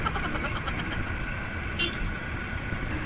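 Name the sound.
road traffic with car horns honking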